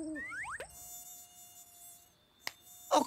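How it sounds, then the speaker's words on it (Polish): Cartoon mosquitoes whine in a forest at night, a high thin buzz sweeping up and then holding a steady drone for a couple of seconds, broken by a few sharp clicks and a brief louder burst at the end. "Okropnie dużo tu komarów."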